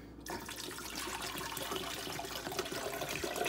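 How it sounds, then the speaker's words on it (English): Water pours steadily into a blender jar, a continuous close splashing rush that runs without a break and with no talking. "Now, we add the water."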